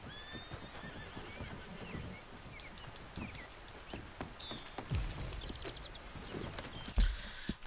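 Horse in the Red Dead Redemption 2 video game whinnies and neighs several times, with clip-clop hoofbeats and scattered birdsong around it in an outdoor game world, moderately loud with no talking.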